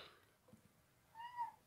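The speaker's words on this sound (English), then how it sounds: "If you can hear that, that's my cat." A house cat gives one faint, drawn-out meow in a quiet indoor room, rising and falling for about half a second after a stretch of near silence.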